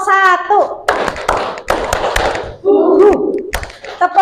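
Children in a classroom clap their hands in a counting rhythm game, with short clap bursts between singing and talking voices.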